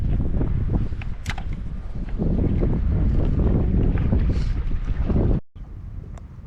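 Strong wind on a lake buffets the microphone in a continuous, loud rumble, with faint clicks and rustles mixed in and a brief cutout near the end.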